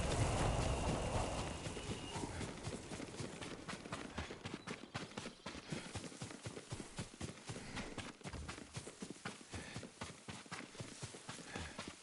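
Horse hooves galloping in the video game Ghost of Tsushima, a steady run of rapid clip-clop beats carrying through the whole stretch, loud and close, with a brief heavier rumble at the start.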